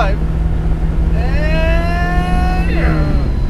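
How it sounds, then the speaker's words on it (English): A 1967 Ford Lotus Cortina Mk2 with a twin-cam engine drives on a Florida road, a steady low engine drone from inside the car with a rising pitch as it accelerates through the gears. "Oh man, nice day in Florida for a drive."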